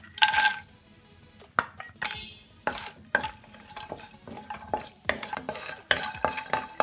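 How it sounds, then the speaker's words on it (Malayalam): Cashew nuts frying in hot ghee for wheat flour halwa, with a soft sizzle broken by scattered scrapes and clinks of a spoon stirring the pan, fairly quiet and close. "ഇതിപ്പോൾ നെയ്യ് ചൂടായിട്ടുണ്ട് ഞാൻ എടുത്തു വെച്ചിരിക്കുന്ന കാഷ്യൂനട്ട് ഇട്ട് വറുത്തെടുക്കാം"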